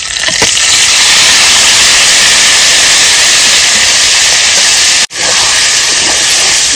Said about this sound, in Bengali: ফোড়নে দিয়ে দেবো তেজপাতা, একটা শুকনো লঙ্কা, গোটা জিরে, দিয়ে দেবো ম্যারিনেশন করে রাখা মাছগুলো